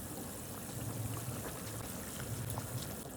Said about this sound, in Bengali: দেখো ঝোলটার মধ্যে কি সুন্দর বলক চলে এসছে